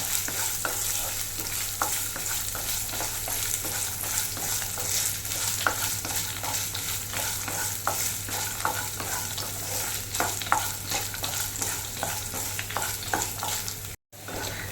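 Coconut pieces stir-fried in a pan for a Kerala beans stir-fry, a steady broadband sizzle with frequent scraping stir clicks running throughout, close and fairly loud, with a low steady hum underneath and no talking.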